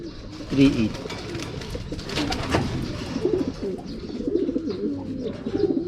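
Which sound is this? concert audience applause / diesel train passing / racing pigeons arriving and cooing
racing pigeons arriving and cooing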